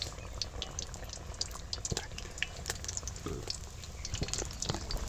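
Thick-tomato-filled potato chops fry in a flat pan, giving a faint, steady sizzle and crackle with occasional light clicks.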